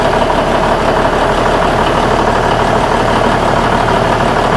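A loud, steady engine idles close up after repairs, a constant rumbling drone with no pauses and no voices.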